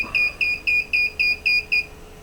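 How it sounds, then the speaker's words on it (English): An alarm goes off during EV battery testing for a BMW conversion, seven evenly spaced, loud, shrill electronic beeps in quick succession, close and clear with no talk. "oh, we've got an alarm"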